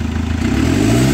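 Chevrolet Captiva NFL AWD engine revving up from idle, a close, rising mechanical roar with slight clatter, heard alone.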